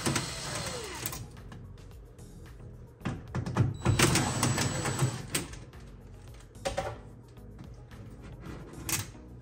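Work on a Zephyr range hood light fixture as a screw is taken out, with irregular metallic clicks, rattles and clunks close up, some louder bursts in the middle, no talk.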